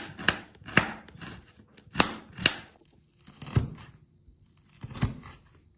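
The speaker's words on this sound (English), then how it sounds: "First, slice some fresh onions." Fresh onions being sliced with a knife on a board, about nine crisp chopping knocks in an uneven rhythm with quiet gaps, close and moderately soft.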